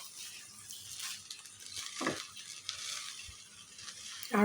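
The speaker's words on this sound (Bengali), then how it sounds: "আরও কিছুক্ষণ ভাজা ভাজা করে নিব" Rice frying in butter in a pan for egg chicken vegetable fried rice, a soft steady sizzle with occasional scraping stirs and a clink at the end.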